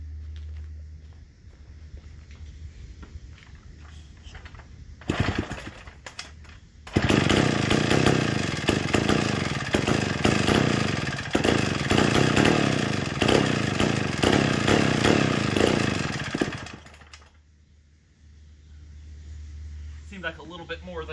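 A McCulloch Model 99 chainsaw engine, carburetor adjusted with a screwdriver, bursts into a loud, sustained buzzing run for about ten seconds, then drops back to a low idle rumble with quieter moments before and after.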